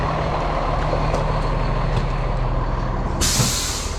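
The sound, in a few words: Freightliner 5130 truck starting up with air brake hiss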